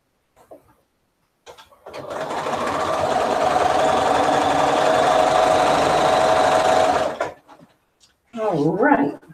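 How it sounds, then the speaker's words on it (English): A sewing machine stitches scrap quilt pieces together in one continuous close, loud whirring run of about five seconds, with brief talk before and after it. "Oh, this one has to get sewn together."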